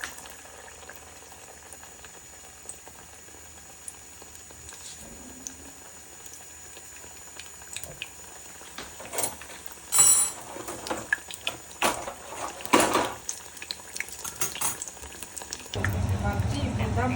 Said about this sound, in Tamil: பஜ்ஜி இப்படிதான் பொரிச்செடுக்கிறேன் மக்களே